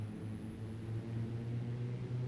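The twin turboprop engines of a PA31T Cheyenne II run at half power in X-Plane 11, making a steady, even drone with a low hum throughout.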